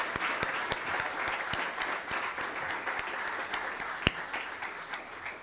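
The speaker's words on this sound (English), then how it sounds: "let's give them a huge round of applause" Audience applause for community services staff at a city State of the City event, a steady mass of clapping with sharp individual claps standing out, sustained throughout.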